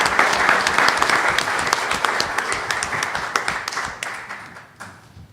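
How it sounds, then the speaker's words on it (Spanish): Audience applause at a molecular genealogy conference, a dense burst of many hands clapping close and loud from the start, slowly thinning and fading out toward the end. "Un aplauso, por favor, para don Jorge Salazar Salazar."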